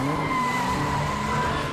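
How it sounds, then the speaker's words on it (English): A car revving hard and squealing its tires on the pavement of a shopping center parking lot, a continuous strained engine roar with a tonal tire screech, close and loud. "I could hear the revving of an engine, the squeal of tires breaking traction on the pavement"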